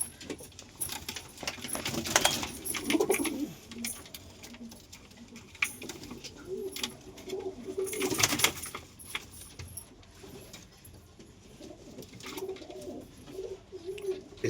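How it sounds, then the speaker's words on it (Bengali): Pet pigeons coo several times at a moderate distance, soft and low, with brief rustling bursts between the calls. "আমাদের পায়রাটাকে দেখুন"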